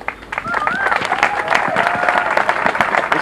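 Audience at a skills development program graduation claps and cheers for a graduate called forward, with dense steady applause, a whoop or whistle rising above it, and voices in the crowd throughout.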